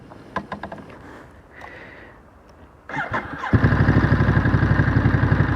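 A 2023 Ducati Monster SP motorcycle cranks with a few clattering, faltering turns, goes quiet briefly, then catches and settles into a loud, steady, close idle.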